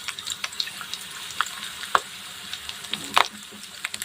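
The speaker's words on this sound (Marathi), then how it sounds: "लसूण छान असं तळून घ्यायचं आहे मस्त थोडंसं जिरं घ्यायचं आहे जिरंसुद्धा छान असं तळून घ्यायचं आहे" Finely sliced garlic and cumin seeds fry in oil for a lemon-chili recipe, making a light crackle with sharp pops and spatters over a low sizzle, close by.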